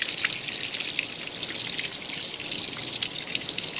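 Water runs steadily from a tap for a rinse in a laundry wash using detergent sheets, a constant soft hiss and patter with small splashes, fairly quiet and heard alone.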